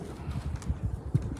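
Live pigeons shuffle and coo softly inside a shipping box, a faint, close stir of low murmurs and small thumps.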